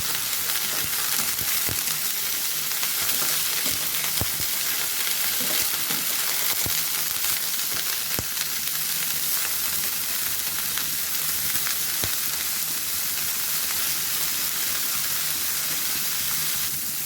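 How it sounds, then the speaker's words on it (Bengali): Steady loud sizzling of broccoli frying in oil, with occasional clacks and scrapes from stirring in the pan, continuing without any voices. "বকলিগুলোকে তেলে নেড়ে নেব।"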